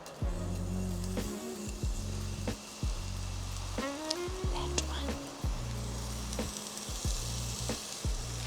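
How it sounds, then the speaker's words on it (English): Chopped onion hits heated oil in a pan and sizzles steadily and loudly throughout, with a constant frying hiss over a low droning background and occasional stirring clicks. "I'm gonna add in the onion now that the oil is nice and heated."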